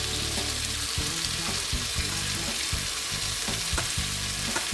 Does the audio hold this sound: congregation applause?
no